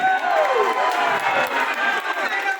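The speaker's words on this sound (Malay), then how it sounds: "Tepuk tangan." A crowd at a Malaysian election rally claps and cheers, a loud, busy mix of clapping, shouts and excited voices at close range.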